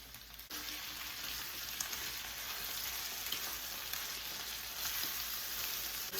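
Steady, quiet sizzle and bubbling from a pan of hot dog sauce with bacon as a cup of ketchup is stirred through, a continuous hiss without pauses.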